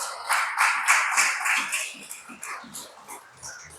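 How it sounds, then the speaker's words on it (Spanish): A church congregation claps together for God in steady rhythmic applause, loud and close at first, then thinning into softer, more scattered claps. "Dar un aplauso a Dios, amado."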